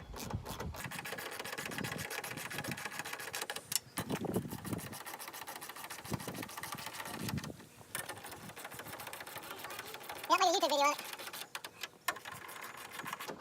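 Screws are driven by hand into a plastic TRD Pro grille, giving a faint, continuous scratchy rubbing and ratcheting with a few brief clicks, close to the microphone.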